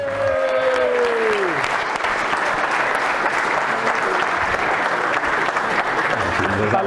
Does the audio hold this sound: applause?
yes